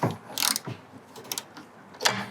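Ratchet with a triple square 10 bit tightening a bolt during CVT removal on a 2009-2013 Audi A4 B8, heard as a few short bursts of clicking close by, with pauses between them.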